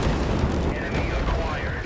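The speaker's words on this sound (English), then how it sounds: "Incoming missiles." Missile strikes in the War Robots Frontiers game, a dense rumbling barrage of booms and blasts that fills the moment without pause, with a game voice over it.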